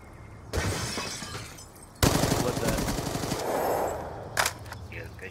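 Automatic gunfire in a first-person shooter video game, loud rapid bursts starting abruptly, with a sharp crack and continuous firing followed by a final short volley.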